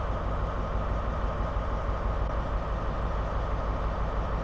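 A steady, rumbling HST train roll in the video game Train Sim World 2, a continuous low mechanical drone, even and unbroken, no voices.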